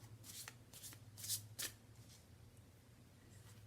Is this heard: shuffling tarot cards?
yes